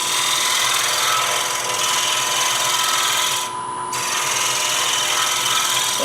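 A woodturning tool cuts a spinning wood blank on a lathe while shaping a coffee scoop, giving a steady, loud scraping hiss that carries on throughout, with a short dip in the middle.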